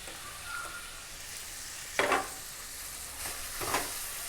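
Vegetables for cheesy spring rolls are stir-fried over high heat, giving a soft, continuous sizzle broken by a few louder scraping stirs of a spatula. No one speaks.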